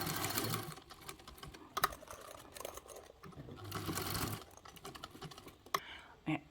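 A sewing machine stitches around the edge of a zipper tab in bursts of rapid, close mechanical whirring, pausing between runs with small clicks as the fabric is turned.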